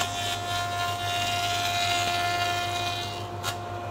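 A power tool cuts a lid off, giving a steady, continuous grinding and rubbing drone with a constant hum that holds for several seconds at moderate loudness before a brief scrape near the end.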